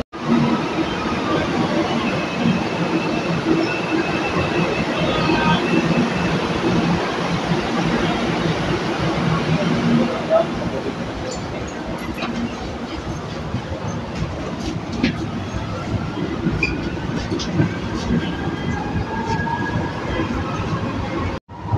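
An MRT train rolls through a station with a continuous loud rumble and rattling, a dense mechanical roar that eases slightly partway through as faint clicks and squeals come and go.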